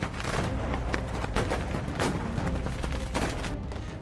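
Firecrackers and smoke bombs go off during street clashes between demonstrators and police, a dense, continuous barrage of sharp cracks and bangs with no pause, loud and close.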